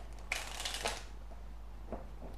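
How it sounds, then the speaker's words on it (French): Oracle cards being gathered and covered on a table, a quick rustle and slide of cards in a short burst followed by a couple of light taps, close and soft over a low background hum. "on va recouvrir les cartes"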